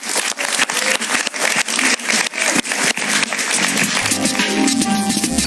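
Studio audience applause on a Spanish-language television talk show, a dense and steady wash of clapping that carries on throughout at a fairly loud level.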